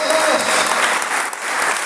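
A church congregation bursts into loud, sustained applause during a worship service, steady broadband clapping filling the whole moment with a few voices mixed in.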